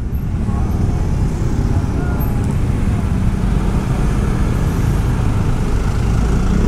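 Dense, steady rumble of stop-and-go traffic jammed on a road in Bali, with engines idling and creeping close by in a continuous low roar.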